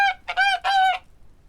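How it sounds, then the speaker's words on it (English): A passing flock of geese calls in the game The Girl of Glass: A Summer Bird's Tale, with three short nasal honks in quick succession, close and clear, then quiet. "she waved at a passing flock of geese, and they greeted her back"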